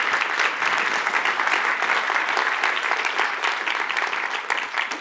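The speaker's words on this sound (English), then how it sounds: "So can we please clap?" Sustained applause fills a university hall during the State of the University address at Utah Valley University, a dense, even clapping from a large audience lasting throughout.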